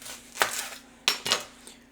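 An onion being cut into one-inch strips with a knife, three sharp chopping knocks against the board in quick succession, close and clear with nothing else audible.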